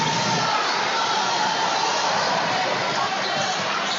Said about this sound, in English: Heard a bit of crowd voices there.